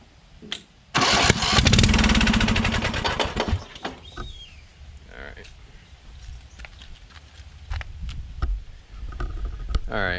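An old riding lawn mower that sat for years is cranked over, with a loud burst of starter churning and sputtering that tries to catch for a couple of seconds, then dies away, leaving faint clicks and handling noises.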